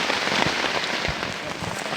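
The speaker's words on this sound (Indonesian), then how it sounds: "Hujan. Hujan bro." Steady rain falls outdoors near a riverbank while people set up a tarp for a shelter, a dense, continuous hiss of drops with a few sharper patters standing out.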